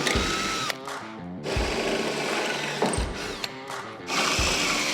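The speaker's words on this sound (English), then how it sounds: "grab the drill, and we'll drill some holes for our rosette welds" A power drill bores holes in a car roof panel for rosette welds, whining in several short bursts separated by brief pauses, close and clear with no talking.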